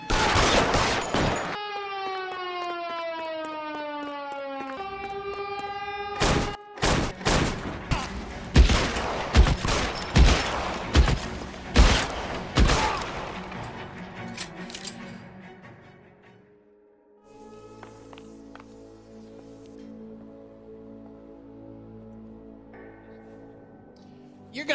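Gunfire in the video game L.A. Noire during a shootout at a chemical plant, with rapid bursts of shots and falling tonal sweeps, then dense cracking volleys before the action fades into quieter game ambience.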